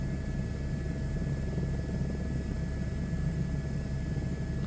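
Airbus H125 helicopter in flight within Microsoft Flight Simulator, a steady, continuous rotor and turbine drone with low thrumming pulses that holds at an even level throughout, with no voices.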